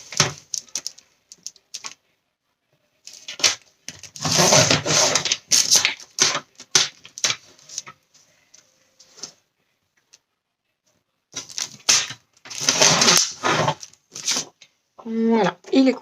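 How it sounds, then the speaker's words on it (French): Handmade Advent calendar material is cut in short bursts of crisp snipping and scraping, separated by quiet pauses, close by with some rustling at the end. "Donc je vais le couper."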